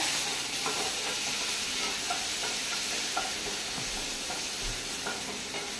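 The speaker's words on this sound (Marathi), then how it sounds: "सगळो कांदो हो बरो फ्राय जाल्लेलो आहा." Onion fries in a pan with a constant broad sizzling hiss, broken by faint clicks of stirring, heard steadily and at close range with no speech.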